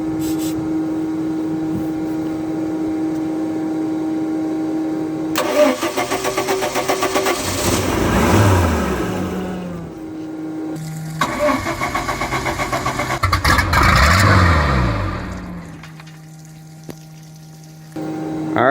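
A 1991 Mercruiser 4.3 V6 sterndrive boat engine cranks and catches, roars up in a hard rev, then cuts off; it fires up again for a second loud burst and dies, leaving a steady hum.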